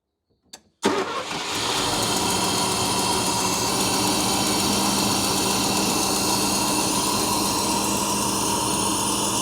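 A Mercedes 280SE 4.5 fires up with a sharp catch, then settles into a steady, even idle that runs on unbroken and fairly close.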